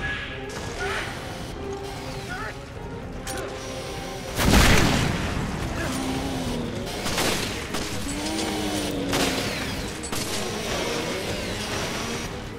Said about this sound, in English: Oh my god, grenade launcher.